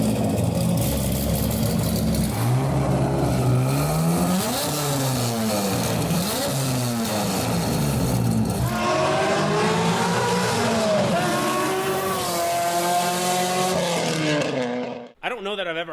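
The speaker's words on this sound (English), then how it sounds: "I don't know that I've ever heard a car sound like that, much less a Chevy-based LS." A Chevy LS-based V8 in a Corvette fitted with a Solaritech 4-2-1 exhaust kit revs hard and loud, pitch sweeping up and down through repeated pulls, with a brief drop near the end.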